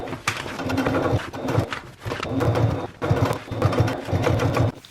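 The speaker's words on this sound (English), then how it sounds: "let's go back to the sewing machine" A sewing machine top stitches a travel bag panel in short bursts, its needle clattering rapidly and close by, pausing briefly between stretches of stitching.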